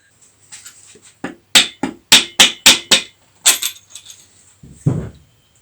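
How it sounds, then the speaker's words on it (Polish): A series of sharp, hard taps from a plastic hammer on an engine oil pan, about eight in quick succession with a short pause midway, close and fairly loud, then a duller knock. "wystarczyłoby puknąć delikatnie plastikowym młotkiem."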